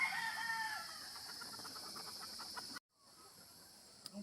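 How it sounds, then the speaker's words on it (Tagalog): A broodcock rooster on a gamefowl farm crows near the start, a loud drawn-out call, followed by quieter outdoor farm ambience with a few faint clucks. "Ito yung broodcock."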